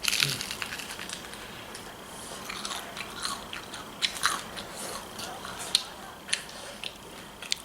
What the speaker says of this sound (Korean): 거기 양념은 그냥 살짝 이렇게 찍어 먹는 게 맛있어